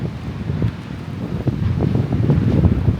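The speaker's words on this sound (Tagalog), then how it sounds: "super lakas ng hangin at ang lamig" Strong wind at Kamakura, Japan buffets the microphone in loud, gusty low roars that swell and surge without a break.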